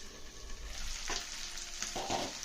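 Prawns fry in a little oil in a pan with a low, steady sizzle, quiet and close, broken by a couple of brief louder crackles as the pieces are moved.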